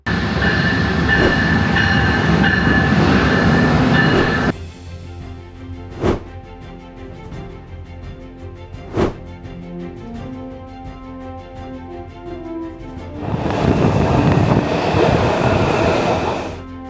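Passenger train ride heading to Washington DC: loud rumbling cabin noise, then a quieter stretch with sharp periodic clacks of wheels over rail joints, before the roar swells again.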